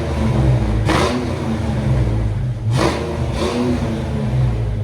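A Ford Mustang GT 5.0 V8 from the 1987-1993 years, a five-speed manual, revs its exhaust hard and close up. Three sharp throttle blips rise over a loud, steady rumble.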